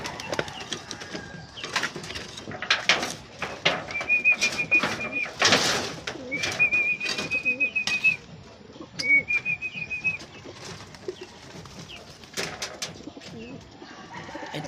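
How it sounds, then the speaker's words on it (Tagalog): Pigeons kept in a loft coo softly and close by, with a few wing flaps, scattered rustling and a couple of thin whistled tones mixed in. "Ngayon, biviewing muna natin ang ating mga kalapatids."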